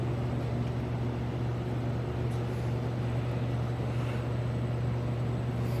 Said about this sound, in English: it has a timed startup period where it runs the cooling blower to try to unify the temperature inside